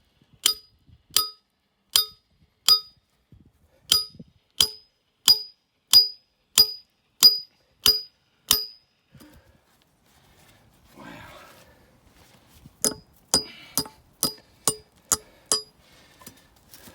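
A trap anchor is hammered into the ground with a series of sharp metallic clinks at a regular beat. A pause of rustling follows, then another quicker run of strikes, close and distinct.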